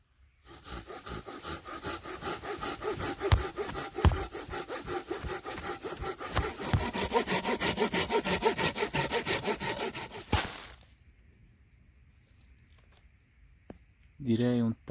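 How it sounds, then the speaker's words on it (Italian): A Silky Gomboy 240-10 folding saw cuts through wood outdoors in the woods with a fast, steady run of rhythmic back-and-forth strokes that stops abruptly, followed by quiet and a brief voice at the end. "Adesso facciamo una prova di questo seghetto."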